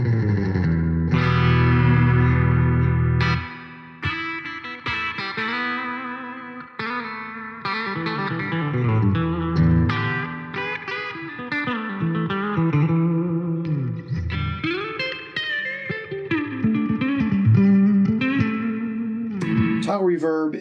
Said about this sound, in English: And then we have spring, which guitar players are all going to know.